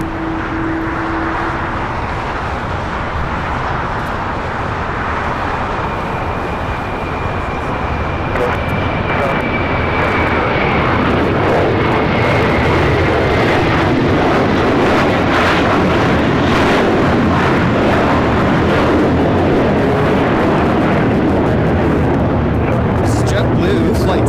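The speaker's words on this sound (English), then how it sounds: "Taking off to JFK on the A321 Material Girl" An Airbus A321 taking off at LAX bound for JFK, a loud sustained jet roar that builds and holds close by, with a whine fading over the first seconds.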